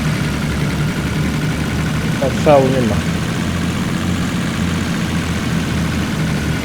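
An original Jeep engine idles with a steady low rumble close by, continuous throughout, while someone speaks briefly over it.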